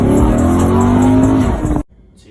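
A Corvette sports car engine revs loud and close, a sustained roaring climb with some tire squeal, then cuts off abruptly into near silence.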